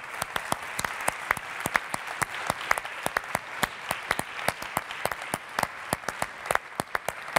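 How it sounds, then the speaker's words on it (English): An audience applauds a speaker walking onto the stage at the opening of a 2010 One Young World interfaith dialogue session; steady, fairly sparse clapping continues throughout with no voices. "So a very big round of applause."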